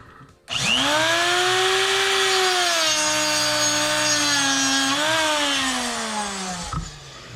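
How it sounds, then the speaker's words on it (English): A cutoff wheel slices through an engine hose on an R32 GTR long block, a loud, close, sustained high-pitched grinding whine that starts abruptly, holds steady for several seconds with a slight pitch dip, then cuts off. "All right, so we're going to go ahead and cut this hose."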